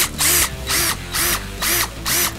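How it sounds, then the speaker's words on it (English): A power drill bores holes in a small cut piece of wood for a rat trap, five loud close whining bursts in a steady rhythm with short pauses between them, no voices. "Do the drilling."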